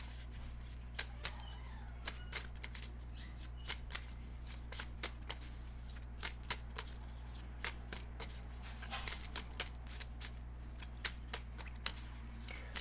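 A deck of tarot cards is shuffled by hand during a reading, crisp repeated riffles and flicks in irregular bursts over a low steady hum, close and fairly quiet, with no speech.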